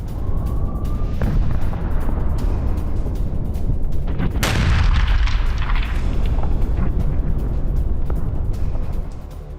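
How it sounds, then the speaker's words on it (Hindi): Israeli army airstrikes and bombardment in southern Lebanon send out a loud, sustained low rumble, broken near the middle by one sharp, heavy blast that rolls away into a lingering roar. "दक्षिणी लेबनान में इजरायली सेना ने बमबारी की।"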